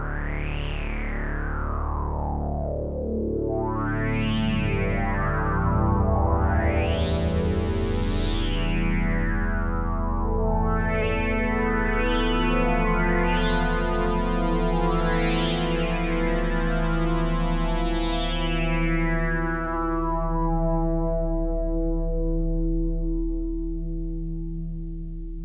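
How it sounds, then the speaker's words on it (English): An Audiothingies MicroMonsta synthesizer plays sustained tones while a resonant filter sweeps up and down repeatedly, producing rising and falling whooshing timbres, steady and loud without any talking. "it's a nice little sort of small boutique synthesizer"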